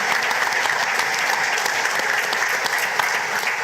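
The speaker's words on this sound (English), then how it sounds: "So just give yourselves a round of applause again for being here and supporting this" An audience at a gathering breaks into sustained, even applause, many hands clapping densely and continuously at a moderate level.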